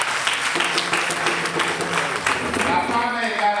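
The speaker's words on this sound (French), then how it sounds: "Applaudissez pour vous-même." Audience applause fills a hall at a Beninese women's celebration, steady and dense clapping throughout with a speaking voice over it.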